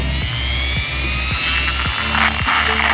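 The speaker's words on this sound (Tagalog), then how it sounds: "So una ko pong ginawa dito ay gumamit ako ng Dremel. Binutasan ko po itong tatlong to" Dremel rotary tool boring holes in a five-contact gear indicator switch for an Athlete/Fury motorcycle, a steady high-pitched whine with repeated brief dips as the bit cuts in and eases off, close and loud throughout.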